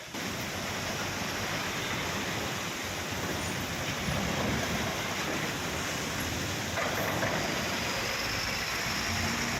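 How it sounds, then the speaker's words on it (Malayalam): Water gushing under high pressure from a burst main drinking-water pipe by a roadside, a loud, steady, broadband roar that fills the whole stretch without pause. "പൈപ്പ് പൊട്ടിയതിനെ തുടർന്ന് വെള്ളം ഉയരത്തിൽ പുറത്തേക്കൊഴുകി"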